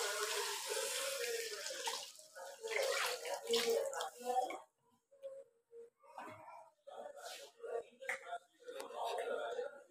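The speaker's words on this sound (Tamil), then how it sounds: "புளி தண்ணியை எடுத்து நம்ம ஊற்ற போகிறோம்" Tamarind water with green chili poured from a vessel, a splashing, gurgling stream that runs steadily and then comes in short pours, with a person talking over it.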